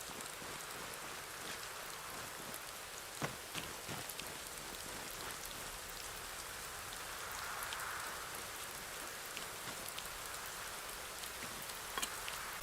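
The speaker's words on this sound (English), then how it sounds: "The rain is getting much heavier." Heavy rain falls steadily in the video game Rising World, a dense, even hiss with scattered sharper drops throughout.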